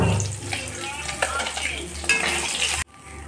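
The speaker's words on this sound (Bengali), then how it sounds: "আমার মাছ ভাজা প্রায় হয়েই গেছে" Fish fries in a pan with a crackling sizzle, broken by stirring and the clink of a metal utensil against the pan before the noise cuts off abruptly near the end.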